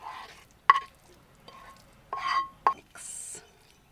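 Kimchi, gochujang and honey being mixed into rice in a small camper van kitchen: soft, close scraping and stirring strokes with a few sharp clicks of a utensil against a bowl, separated by pauses.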